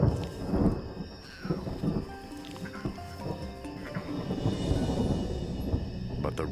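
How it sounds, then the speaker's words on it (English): Low thunder rumbles through a humid night on the savanna, rolling steadily with a broad, continuous roar and faint scattered sounds in the background. "rumble of thunder interrupts the lion's reverie."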